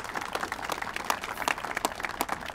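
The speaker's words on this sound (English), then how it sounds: "I think he deserves a round of applause for standing up for us like that" Light, scattered applause from a small audience at a veterans' advocacy event calling on Congress, with quick individual claps sounding slightly distant and fairly quiet.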